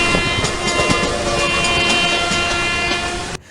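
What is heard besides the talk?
Indian Railways train horn blowing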